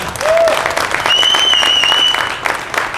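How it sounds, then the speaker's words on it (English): Loud, close audience applause fills a bare-knuckle fighting event hall at BKFC, a sustained roar of clapping with a few sharp whistles ringing over it. "just one more round of applause for everybody"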